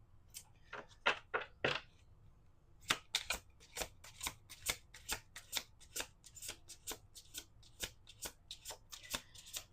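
Playing cards are riffled and bridged repeatedly, a run of quick crisp flutters followed by steady rhythmic snapping, close up and with no talking.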